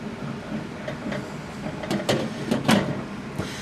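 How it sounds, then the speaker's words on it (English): A metal lid set back onto a pot of boiling water for sweet tea concentrate, giving a few close clanks and knocks over a steady kitchen background. "Put the lid back on."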